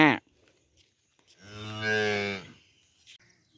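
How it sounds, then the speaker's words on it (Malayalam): A cow gives one drawn-out moo of about a second, fairly close and alone, after a short voice at the start, in a rural fishing spot. "ഹായ് പശു"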